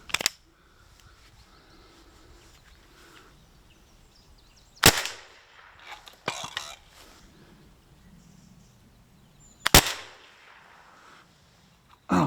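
An HDR 50 CO2 revolver with its original plastic drum fires through a chronograph outdoors, with a few sharp isolated cracks spaced seconds apart and quiet handling noise between them.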